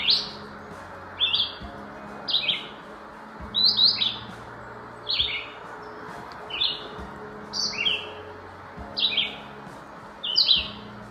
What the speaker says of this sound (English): Can always hear the red-eyed vireo, but pretty hard to find them in the canopy.